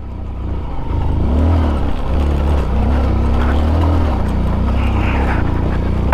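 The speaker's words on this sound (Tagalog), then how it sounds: "Dalawa yan, dalawang motor." Two motorcycles travel a rocky mountain road in Benguet, their engines making a steady, fairly loud drone with a rising and falling rev that swells near and holds throughout.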